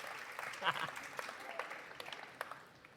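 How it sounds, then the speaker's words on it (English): Audience applause for session moderators at a conference, a faint, fairly brief patter of clapping from a crowd in a hall, with a voice speaking over it. "please give them a round of applause"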